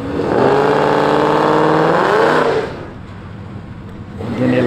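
A car, likely a Camaro, revs hard through a burnout at a street takeover with police nearby, a loud sustained engine roar that drops off sharply midway before building again.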